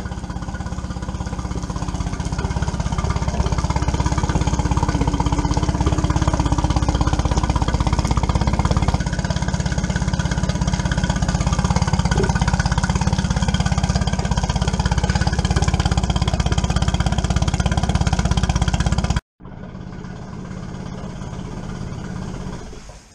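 A small Tohatsu outboard boat motor running steadily at close range, a loud constant rattling drone for about nineteen seconds before a brief cutoff and a lower resumed hum.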